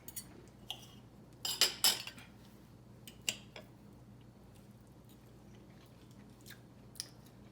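Cutlery clinks against a plate while someone tastes garlicky baked pork chops made with parsley, garlic and olive oil, with soft chewing between a few sharp clustered clinks in a quiet room.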